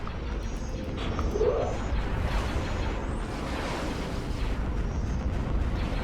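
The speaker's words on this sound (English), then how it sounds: "Getting hit with a lot of missiles here, but they are not shield penetrating missiles" Missiles slam into ships during a space battle in Star Wars: Empire at War, a rumbling wash of explosions and impacts with one sharper burst early on, fairly loud and continuous with no voices.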